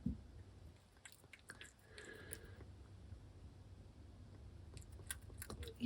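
A cat chews and tears at food up close, making quiet, irregular wet crunches and clicking bites over a faint background hum, with no talking.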